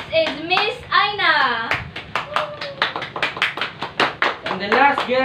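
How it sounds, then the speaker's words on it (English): Studio audience applause welcoming guests on a talk show, bursts of clapping heard under a host's speech and loud enthusiastic voices. "A round of applause, please."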